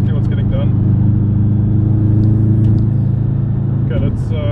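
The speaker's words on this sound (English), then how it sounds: "Got to hear the Subaru." A 2000 Subaru Impreza GC8 engine drones low and steady from inside the car while driving, with a constant loud rumble and brief higher squeaks and clicks on top.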